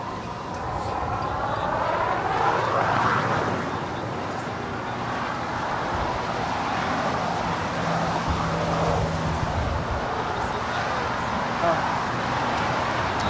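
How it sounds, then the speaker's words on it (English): A Boeing 777-300ER arriving from Tokyo Haneda at Los Angeles International Airport makes a steady, broad roar throughout, moderately loud with a shifting whine, while people talk over it. "777-300ER coming in from Tokyo Haneda"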